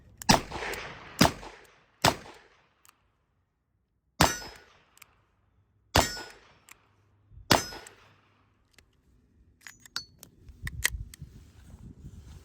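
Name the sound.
Colt Trooper .38 Special revolver firing, double then single action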